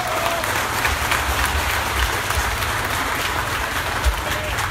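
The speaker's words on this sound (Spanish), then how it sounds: "para quien pido un fuerte aplauso." An outdoor crowd at a motorcycle-taxi association rally under a pergola in Pinotepa Nacional gives a sustained round of applause, a dense, even wash of clapping lasting the whole stretch.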